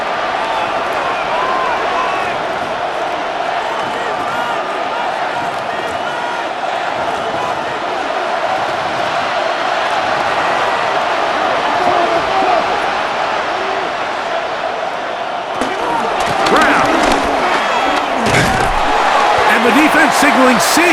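A steady stadium crowd roar from the Madden NFL 26 video game during a Cincinnati Bengals vs New York Giants simulation on PS5. It is dense and continuous, then swells louder and busier in the final few seconds.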